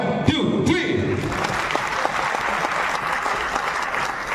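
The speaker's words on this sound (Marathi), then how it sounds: "टाळ्या कशा वाजवायच्या डोक्याच्या वरती हात घेऊन" A theatre audience at an LGBTQ community function claps with hands raised overhead, a loud, dense burst of applause starting abruptly and sustained evenly for several seconds.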